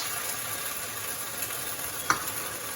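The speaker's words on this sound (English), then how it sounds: "You keep mixing until the rice will get absorbed the wine and bouillon." Risotto rice being stirred in a pan with wine and bouillon for mushroom risotto, a steady soft sizzle and scrape with one small clink, close and continuous without talk.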